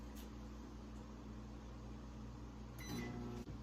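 A microwave oven hums steadily while steaming corn on the cob, a constant low mechanical drone with faint fan noise and a slight shift in tone near the end.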